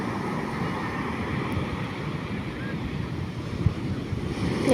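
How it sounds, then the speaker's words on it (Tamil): Ocean waves wash steadily onto a beach in a continuous broad roar, with wind buffeting the microphone and no clear single breaks standing out. "பாருங்களேன், அலை எவ்வளோ ப்ரீவாக எப்படி வருதுன்னு"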